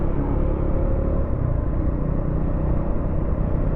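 A Triumph Scrambler motorcycle with a single-cylinder engine produces a loud, continuous, rumbling exhaust drone, steady and close throughout.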